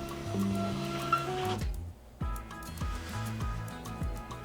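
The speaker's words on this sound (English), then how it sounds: "My printer just printed." An inkjet-style home printer runs through a print job, a close mechanical whirring of shifting tones, a brief pause, then repeated short clunking carriage strokes with no talking.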